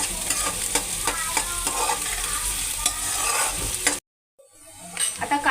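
Chopped onion sautés in a pan for a masala capsicum dish, a steady close sizzle with scraping stir clicks, then a brief silence before the frying hiss picks up again.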